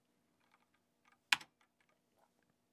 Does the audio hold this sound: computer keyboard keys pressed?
yes